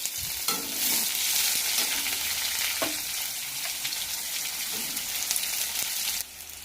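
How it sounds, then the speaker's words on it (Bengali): Onions frying in hot oil already seasoned with cumin, dried chilli and bay leaf; a dense, loud, continuous sizzle with occasional stirring scrapes, close up, fading abruptly at the end. "পেঁয়াজগুলো ভাজা ভাজা হয়ে গেছে"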